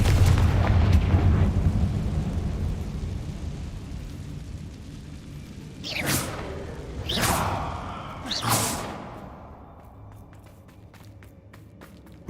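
Three fiery Confringo blast spells in Hogwarts Legacy, each a rushing whoosh ending in a burst, spaced about a second apart after a low rumbling start, then a quieter tail with light taps.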